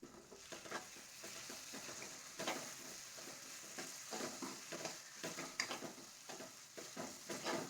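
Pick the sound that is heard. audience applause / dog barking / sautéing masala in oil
sautéing masala in oil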